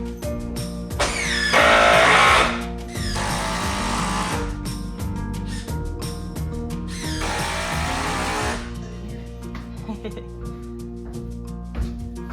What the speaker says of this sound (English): So now I need to just worry about screwing into the other board, right?